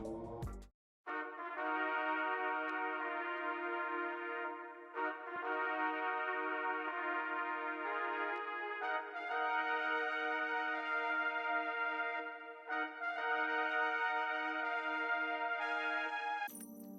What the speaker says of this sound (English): The next sound I added was these trumpets from Session Horns Pro